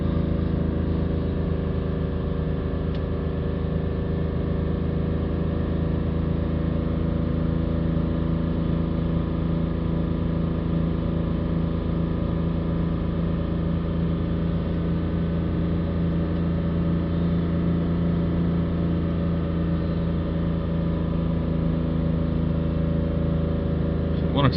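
Steady idle-to-mid rev drone of a BMW 330d diesel engine held around 3000 RPM during exhaust back-pressure and particulate filter diagnostics, a loud, continuous hum with stable harmonics and no talk throughout.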